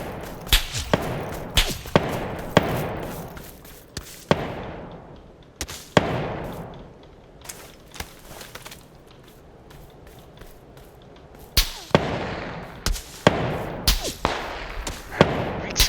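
Scattered sharp gunshots crack at irregular intervals in PUBG, some close and loud, others fainter, with quieter shuffling between bursts of fire.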